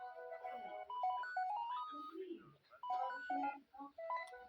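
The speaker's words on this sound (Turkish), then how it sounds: "Telefon çalıyor." A phone rings in the Pokemon Black 2 video game, a melodic chiptune ringtone of quick stepped notes repeating in short phrases, moderately quiet, with no talk over it.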